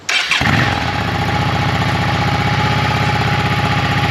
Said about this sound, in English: we're gonna start our motorcycle, and we're gonna let it run for about 3 to 5 minutes here